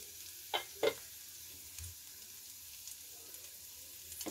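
Quinoa being stirred in a pan, with two quick scraping strokes near the start and then a faint, quiet sizzle.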